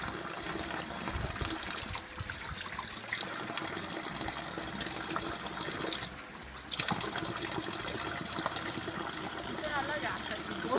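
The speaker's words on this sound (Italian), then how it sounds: "Eccola qua, la fontana della salute." Water runs steadily from the Fontana della Salute, a spring fountain at Lagole near Calalzo di Cadore, making a continuous close splashing trickle with voices talking over it.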